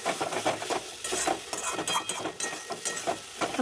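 A spatula scrapes and stirs spice paste with ground cumin and chilli in a karahi, in repeated uneven strokes with light metallic clinks and a soft sizzle underneath, close and steady, no talking.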